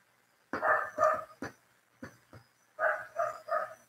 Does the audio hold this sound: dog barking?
yes